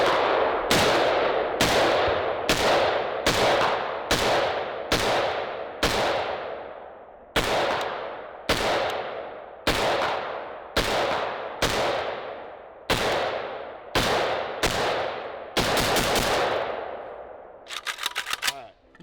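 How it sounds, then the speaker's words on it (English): Rapid semi-automatic gunshots from an Israeli service rifle, about sixteen sharp loud reports in a steady rhythm, each with a short decaying ring, followed by a brief metallic rattle at the end. "Anyway, let's shoot some."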